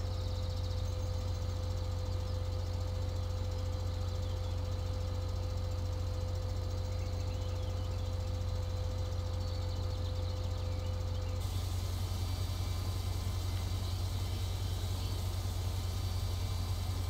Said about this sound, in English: This may not be a big enough tractor.